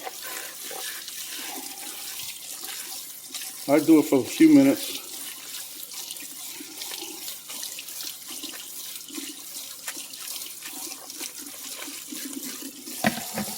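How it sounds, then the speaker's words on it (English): Tap water runs steadily into a kitchen sink over shirataki konjac noodles being rinsed, a continuous faucet splash with a brief louder burst partway through, while a person talks over it. "then you just run some water over them"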